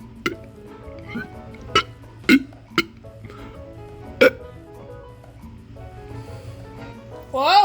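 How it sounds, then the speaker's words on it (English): Several short, sharp vocal bursts from contestants in a burping contest, spread across the clip with quiet gaps between them, with a rising voice-like sound at the end. "Let's start the burping contest."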